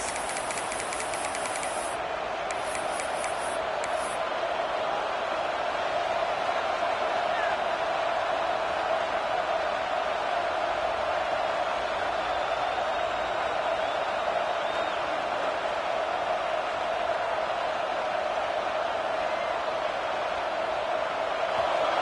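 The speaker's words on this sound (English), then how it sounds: "The roar of the crowd trying to fuel this defense to keep them pinned in their own end." Steady, loud roar of a football stadium crowd urging on the defense, a continuous broad wash of voices holding at even volume throughout.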